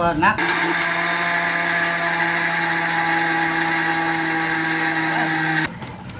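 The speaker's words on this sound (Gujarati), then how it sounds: "આ મિક્સર જારમાં નાખીને આને આપણે દરી લેશું." A mixer grinder grinds cooked dhoho in its jar, whirring loudly at a steady high pitch for several seconds, then cuts off abruptly near the end as it winds down.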